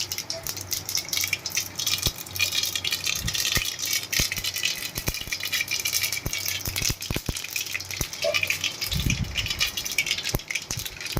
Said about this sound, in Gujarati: તલ ને રાઈ એકદમ સરસ ફૂટી ગયા છે